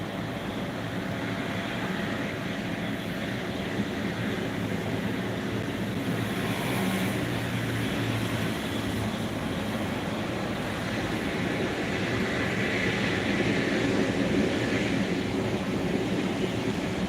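An Emirates Boeing 777-300ER airliner at Phuket International Airport, heading back to Dubai, gives a steady broad roar that holds level for the whole stretch and swells slightly toward the end, heard from some distance with no talking.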